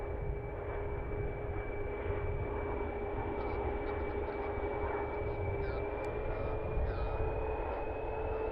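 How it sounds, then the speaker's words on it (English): Embraer E175 airliner landing at Cleveland Hopkins airport, a continuous distant engine roar with a steady whine, heard outdoors with a faint voice talking over it. "E175 getting ready to touch down on 6 right or 6 left."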